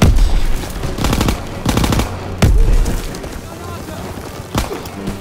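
Machine gun fire in the World War II shooter Call of Duty WW2: loud, rattling bursts of automatic fire come in several waves with heavy booming impacts between them, up close amid the din of battle.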